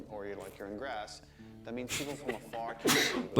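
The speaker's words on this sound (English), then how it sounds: "Don't be sneezing on my show" A single sharp sneeze bursts out near the end, close and loud, following a stretch of ongoing talk.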